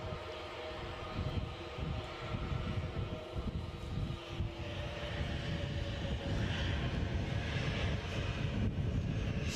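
Edelweiss airliner inbound from Zurich to Edinburgh airport, a steady loud jet engine roar building slightly over the span with no talk.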